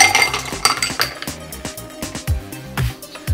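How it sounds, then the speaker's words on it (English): A Long Island-style cocktail is poured from a mixer back into a pint glass, with close, bright clinks and rattles of ice against glass in a quick irregular series. "I'm just gonna pour it straight back into that glass."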